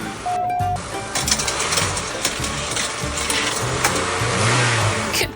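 A toy race car engine sound at a toy race on a Talladega Triple Twist track, a steady revving mechanical whir running loud and continuous throughout, rising slightly near the end.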